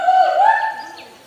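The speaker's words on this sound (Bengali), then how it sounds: "ও একটা পাখি," A single bird at a zoo gives one clear, close, tonal call that rises and falls and lasts just over a second.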